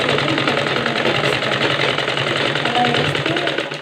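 A sewing machine stitching a blouse lining runs in a continuous mechanical whir with a steady rapid rhythm, close and fairly loud from start to finish.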